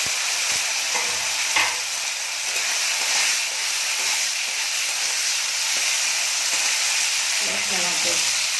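Cumin, bay leaf, dried chili and onion sizzle loudly in hot oil in a pan, a continuous bright frying hiss broken by several scraping stirs and clinks, close and alone.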